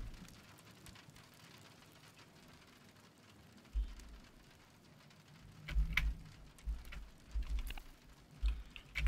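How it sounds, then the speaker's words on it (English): Rain falls in the video game The Pedestrian, a soft, faint patter of drops on a surface, with a few louder low thumps and bursts toward the end. "It's like raining"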